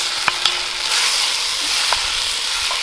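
Stew ingredients sizzling in a hot cast iron Dutch oven over an open fire outdoors in a snow storm, a steady close frying hiss with a few light clicks of stirring.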